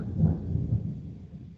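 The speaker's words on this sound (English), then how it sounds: "Oh, the thunder is coming." Thunder during a storm, heard from indoors: a deep, low rolling rumble that swells early, then slowly fades over a second and a half, distant and heavy, with no talk over it.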